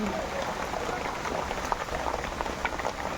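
Heavy rain falling in a storm with strong wind near a guava tree and a tiled house, a dense, steady patter on surfaces at moderate volume without talk.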